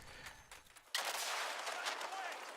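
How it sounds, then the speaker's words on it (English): A grenade blast in Call of Duty Modern Warfare lands abruptly after a stretch of quieter gameplay noise, then rolls into a sustained, loud rumbling roar that carries on to the end. "that's probably my own grenade"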